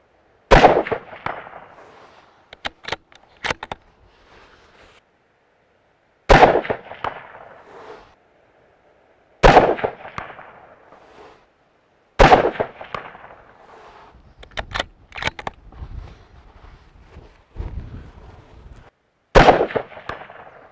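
Lithgow LA102 rifle in .223 firing Buffalo ammunition at an outdoor range: six sharp, loud shots spaced a few seconds apart, each followed by a rolling echo that decays into quiet.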